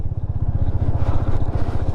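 A group of bikers' motorcycles rumbles nearby with a steady, throbbing low engine pulse that holds without a break on a mountain route in Spiti toward Chandratal Lake.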